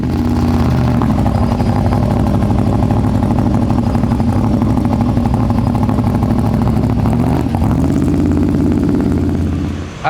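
A race car engine runs loud and steady at the Bradenton track, a sustained mechanical roar with a brief dip near the end and no talking.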